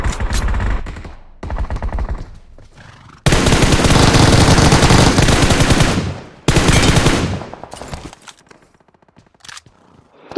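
Automatic gunfire in the mobile battle royale game BGMI, with two long loud sustained bursts after shorter sporadic shots, close and dominant, tapering into quieter in-game noise at the end.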